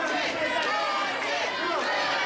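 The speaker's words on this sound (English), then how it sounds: "this crowd, you can hear them cheering Brandon's name" A wrestling arena crowd cheers and chants for a wrestler named Brandon Lee during a championship match, a dense, continuous roar of many voices that stays loud throughout.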